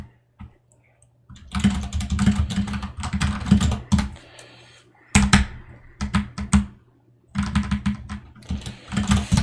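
Rapid typing on a computer keyboard in bursts separated by short pauses, close and fairly loud, with a low steady hum underneath and no talk.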